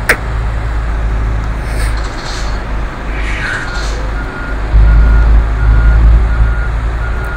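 Truck reversing beeps from the Truckers of Europe 3 driving game, a steady repeated warning tone over a loud continuous engine rumble, with a heavier low thump of engine noise toward the end; no one speaks.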